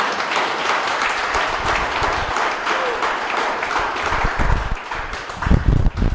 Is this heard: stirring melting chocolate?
no